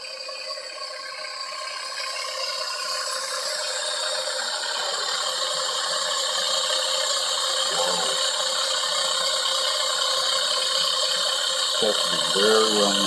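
A stand mixer creams sugar and butter for fruitcake, a steady whirring, rattling mechanical drone that runs the whole time with faint voices briefly underneath.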